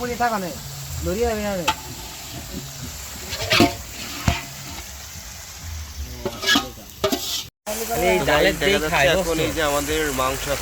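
Meat braised and fried in a pan at an outdoor New Year's Eve picnic, with steady sizzling and repeated stirring scrapes, a brief dropout midway, while people talk over the cooking.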